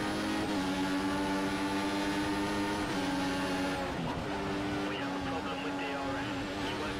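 An F1 race car engine in the F1 2014 PC game at the Hungary circuit, whining loudly with clear pitch shifts as it changes gear, a voice talking underneath.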